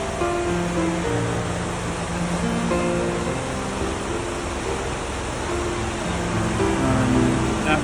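Big typhoon floodwater rushes down a river fed from Yialn Mountain, a steady loud broadband roar with constant churning texture and no pauses across the whole span.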